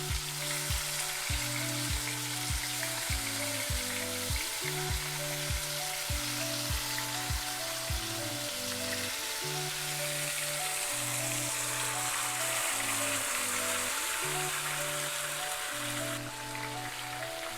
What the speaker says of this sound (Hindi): हमारी आंच तेज है, इसमें हम ये चिकन के पीसेस डाल रहे हैं।